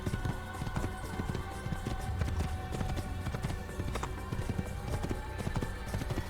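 Horse hooves galloping in Assassin's Creed, a rapid, steady clip-clop rhythm that stays loud and close throughout, with faint layered game ambience beneath.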